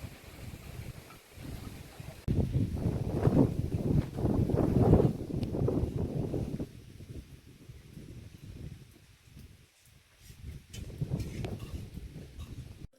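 Wind blows outdoors near a shelter in strong gusty bursts that rise and fall, buffeting the microphone loudly, with a quieter lull before another gust.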